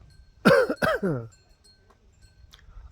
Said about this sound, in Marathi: थोडा खोकला आहे